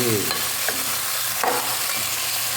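Chicken wings sautéing in a hot pan for a home-cooked sinigang-style dish, with a steady loud sizzle and a few scraping stirs of a utensil, no talking.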